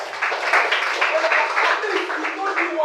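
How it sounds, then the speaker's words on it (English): An audience at a broadcasting practical training session claps together in a dense, continuous burst of applause mixed with cheering voices, close and loud for a few seconds. "Clap for that."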